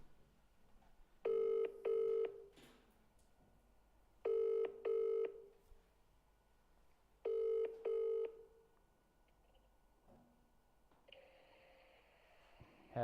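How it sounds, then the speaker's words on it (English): A telephone ringing three times during a live prize-draw call, each ring a pair of short electronic trills separated by pauses, fairly quiet against a low background hiss. "It's ringing."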